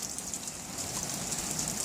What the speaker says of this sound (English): It's been varying degrees of rain.